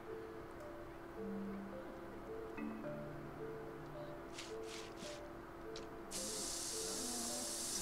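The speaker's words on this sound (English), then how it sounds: "Yes, organic disinfectant spray." Organic disinfectant spray hisses from a bottle in Sims 4 during a vet treatment, a few short bursts followed by a longer steady spray over soft game music.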